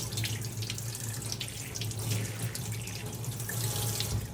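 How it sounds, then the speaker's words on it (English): Tap water runs steadily into a sink while a whole chicken is rinsed out, a close, continuous splashing rush with no talk. "Rinse out the inside."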